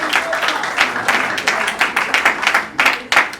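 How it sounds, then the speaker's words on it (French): An audience at a concert claps loudly in uneven bursts, with dense, close hand claps swelling and pausing in a loose rhythm. "Donc, faut applaudir."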